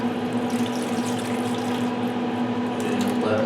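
Apple juice poured onto smoked pork in a pressure cooker, a steady splashing liquid stream running continuously alongside a constant low hum.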